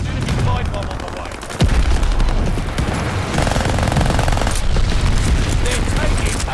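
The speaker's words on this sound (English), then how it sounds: "Friendly mortar fire coming." Mortar fire rumbles through a Call of Duty Vanguard multiplayer match, a heavy low boom landing near the middle and sustained battlefield noise with gunfire continuing throughout, loud and dense, with radio-style voice chatter mixed in.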